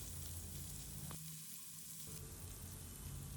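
Paneer cubes coated in seasonings sauté in hot oil over a medium flame, giving a steady close sizzle with a soft crackle that dips briefly in the middle before resuming, with no talking.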